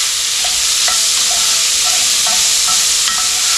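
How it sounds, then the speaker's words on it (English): Onion cooking in a pot on the stovetop for stovetop baked beans, a loud close steady sizzle with occasional scraping stirs. "So you're just going to let that get nice and toasty and the onion get soft."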